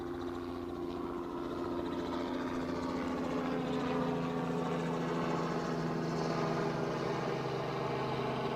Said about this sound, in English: Another chopper by the sounds of it.